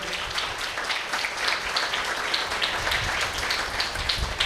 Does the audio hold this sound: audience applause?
yes